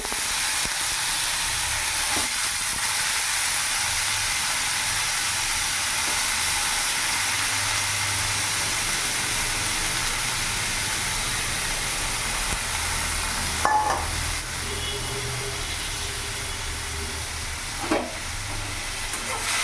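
Steady, loud hiss of food sizzling in hot oil runs throughout, with a few brief clinks partway through.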